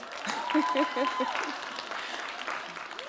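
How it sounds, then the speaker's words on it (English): Applause from an audience at a beauty event rises and fades while a voice speaks over it, the clapping a dense patter behind the talk. "Give yourselves a round of applause."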